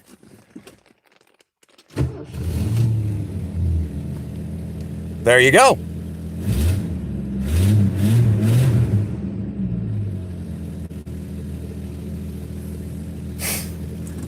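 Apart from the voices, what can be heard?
project hot rod car engine starting and running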